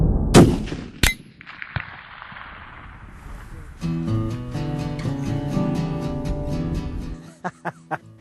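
A rifle fires toward a distant steel plate target at a range: sharp loud cracks and a rolling echo, followed by a bright, tonal ringing clang that sustains before a few fainter knocks and taps.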